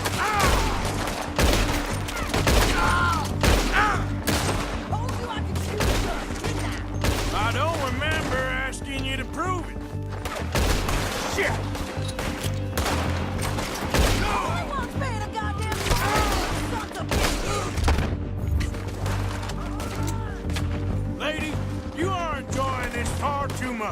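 Dense, sustained gunfire from a Red Dead Redemption 2 shootout, a fusillade of overlapping shots and bursts continuing throughout at close range, mixed with game music and characters talking over the fighting.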